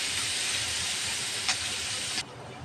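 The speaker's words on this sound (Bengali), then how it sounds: "সরিষার তেল দিয়েছি, দিয়ে দিচ্ছি পেঁয়াজ কুচি, রসুন কুচি, কাঁচামরিচ। পেঁয়াজটা ভালোভাবে ভাজে নেব।" Chopped onion, garlic and green chillies frying in mustard oil give off a steady close sizzling hiss with one brief crackling spike, then the sound drops off abruptly near the end.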